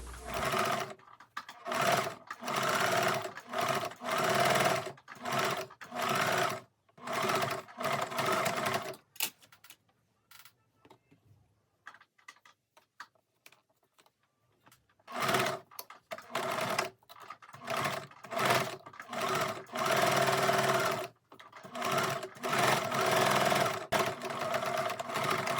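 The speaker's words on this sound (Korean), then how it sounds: "주머니 입구에 3cm 접어서 주머니 입구를 먼저 박음질을 합니다." A sewing machine runs loud and close in several bursts, stitching the folded pocket opening of a hooded sweat jacket, with a quiet pause in the middle and no voices.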